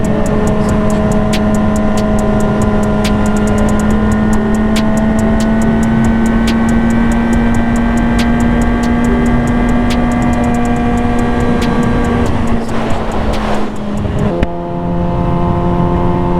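A Yamaha R6 motorcycle accelerating hard from 0 to 60 mph, a loud close engine whine climbing steadily in pitch, with rhythmic ticking throughout, then a brief shift and a drop in tone near the end.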